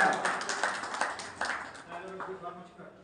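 Audience clapping at a student felicitation ceremony, a burst of many hands clapping in a dense, uneven patter. It is moderately faint and slowly thins out, with talk mixed in.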